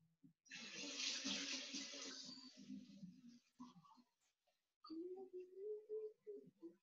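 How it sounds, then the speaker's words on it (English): Tap water runs into a kitchen sink while hands are washed, a close hissing splash lasting several seconds, then a brief pause, with a voice speaking faintly near the end. "Why don't we take a pause and we'll wash our hands"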